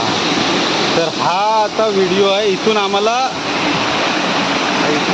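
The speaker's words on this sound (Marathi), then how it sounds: "हा बघा धबधबा तुम्हाला दिसत असेल" Loud, continuous rushing water of a nearby waterfall swollen by rain fills the scene while someone speaks briefly over it.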